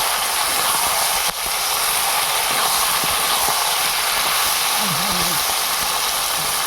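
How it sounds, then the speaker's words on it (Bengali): Chicken curry meat sautéing in a village-style kitchen gives a loud, continuous sizzling hiss from start to finish, with one brief clunk near the beginning and a faint low murmur later. "মাংস কষা হচ্ছে"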